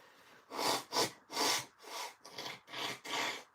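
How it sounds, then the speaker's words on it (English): Several forceful nose blows in quick succession, close and loud, each a short rough burst of breath. "Give me 2 seconds, just to blow my nose"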